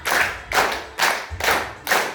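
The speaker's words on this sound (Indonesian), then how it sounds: "Tepuk 1. Tepuk 2. Tepuk 3. Tepuk 4. Tepuk 5." Five sharp hand claps land in an even rhythm about half a second apart, close and clear with no talking.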